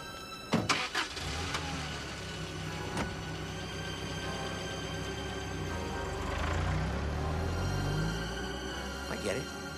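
A car engine cranks and starts with sharp clicks, then settles into a steady mid-pitched idle and drives off, rising in a broad surge near the end while people talk over it.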